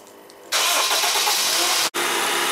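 A 12-volt car battery with a jump-starter booster clamped on cranks the engine, which catches and roars into a steady loud run, with a brief dip before it keeps running.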